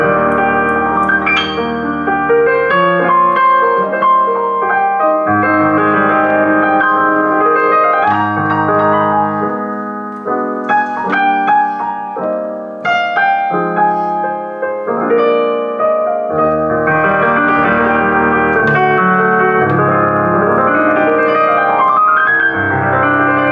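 A Yamaha CLP-875 Clavinova digital piano plays its Bösendorfer Imperial grand voice, a continuous full-range passage of rich chords and melody with sustained resonance, loud and close with no talking.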